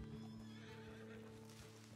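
A horse in Red Dead Redemption 2 gives a faint, brief whinny over a quiet, steady game background, with soft hoof sounds mixed in.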